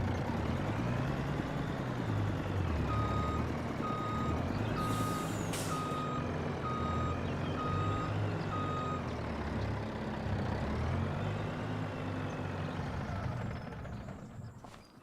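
A truck backing up to park in Farming Simulator 25, its reversing beeper repeating at a steady pace over a loud, continuous engine rumble, with a short air-brake hiss partway through.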